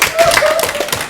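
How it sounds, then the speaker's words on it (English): Brief burst of audience clapping at a game show, a short close patter of hands with a voice faintly underneath. "round of applause for Josh."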